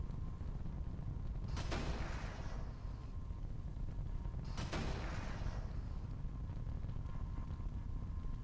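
Two heavy blasts from battleships cooking off in the space combat game Nebulous boom out a few seconds apart, each a sharp crack that rolls into a low rumble, over a constant dull engine-like drone.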